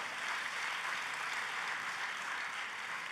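A church congregation at a sermon applauds in a dense, even hiss of many hands, faint and distant throughout.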